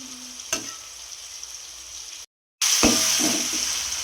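Onions fry in a pan until brown with a steady, moderate sizzle. After a short silent break it returns louder, with a few knocks from stirring.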